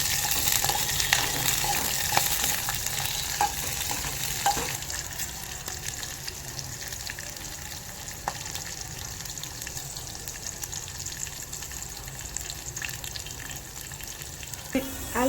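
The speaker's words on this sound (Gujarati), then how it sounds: "જો મરચાં તળ નાખ્યા છે સરસ મજાના" Red chillies frying in hot oil in a village kitchen, giving a continuous soft sizzle with occasional small clinks and stirring sounds, steady and fairly quiet without any talk.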